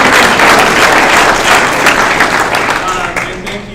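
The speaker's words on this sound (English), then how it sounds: "let's give her a big clap" Banquet audience at a varsity and JV football awards night applauding the Booster Club treasurer, a dense, steady wash of clapping from a full room that holds for several seconds and thins slightly at the end.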